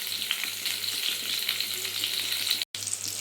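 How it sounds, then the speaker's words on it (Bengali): Slices of pointed gourd fry in hot oil in a pan, giving a loud, continuous, close sizzle with faint stirring and one brief dropout. "পটলটা বেশি কড়া করে ভাজা করব না, হালকাভাবে ভেজে তুলে দেব।"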